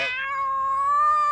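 A cat gives one clear, drawn-out meow, close and loud, rising slightly in pitch before it ends, with nothing else around it.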